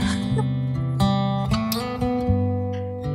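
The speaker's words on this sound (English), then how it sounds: "most places have a like a resident dog" A resident dog at a headland on Dirk Hartog gives several close, loud yips and short barks mixed with whimpering, in an uneven rhythm of bursts.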